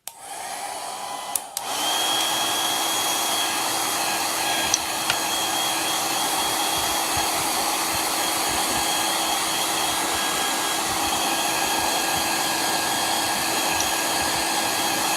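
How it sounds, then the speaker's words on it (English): Blow dryer switched on at a crafting table while working on a fabric reindeer, a steady loud whooshing whine after a brief click-on, running alone without pause. "let me turn the blow dryer on again for a minute"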